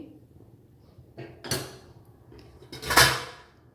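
A lid set down on a pan of carrot halwa (gajar ka halwa) as it cooks, giving two close metallic clatters about a second and a half apart, the second louder, with no talking.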